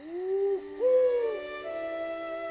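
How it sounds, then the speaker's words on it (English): Two drawn-out hooting calls in quick succession, then a long steady tone, clear and close against near silence. "An owl was sitting on a branch."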